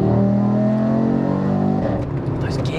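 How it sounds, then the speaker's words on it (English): Tuned 520 bhp Audi RS3 8Y engine revs hard through a gear shift, a strong droning tone that breaks near the end as the next gear engages, heard close and loud with some voice alongside. "Those gear shifts. Yeah."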